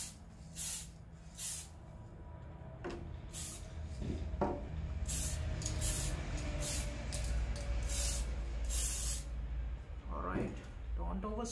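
An aerosol can sprays paint onto a lexan RC car body in a series of short, close hissing bursts over a low background rumble.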